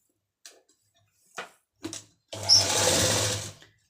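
Sewing machine stitching palazzo pants: a few soft clicks and taps, then a steady, close mechanical whir of rapid stitching lasting over a second before it stops.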